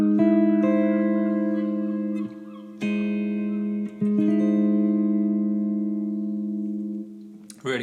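A clean electric guitar rings out a lush major seventh chord with an added flat sixth, strummed and left to sustain, then restruck a few times, close and alone with a gentle reverb tail.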